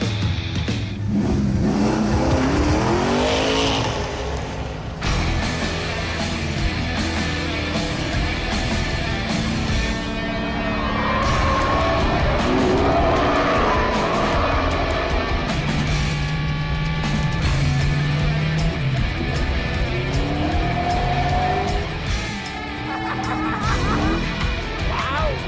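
A chrome-wrapped car works hard on a race track, its engine revving and roaring loud and close, with pitch rising and falling as it accelerates and shifts throughout.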